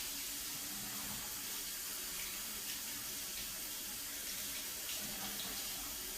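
A makeup sponge being rinsed under a running tap, a steady close hiss of flowing water splashing into a sink with no talk.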